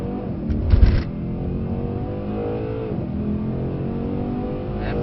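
A Mercedes-AMG C63 accelerates hard down a track road, its engine note climbing loud and continuous from up close, with a brief heavy thump near the start.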